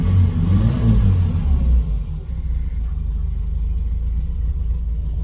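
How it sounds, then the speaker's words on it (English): A Fiat 850 Sport Coupe with a 903cc water-cooled inline-four rear engine revs up loudly near the start, then settles into a steady running drone close by. "this is a Fiat 850 Sport Coupe. So 903cc, inline 4, rear engine, water-cooled Fiat."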